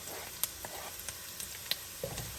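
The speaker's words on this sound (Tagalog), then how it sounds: "Igisa lang natin hanggang mag-golden brown yung ating bawang." Onion and garlic sautéing in a pan for palabok, a steady close sizzle with faint crackles and a few sharp pops and clinks of a utensil, no voices.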